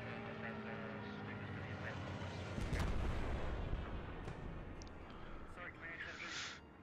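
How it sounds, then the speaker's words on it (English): A Stuka dive bomber's bombing run in the WWII game Post Scriptum brings a rising roar and heavy booming blasts around the middle, with gunfire crackle and faint voices underneath. "Here comes a bombing run."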